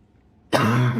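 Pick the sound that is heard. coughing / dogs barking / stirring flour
coughing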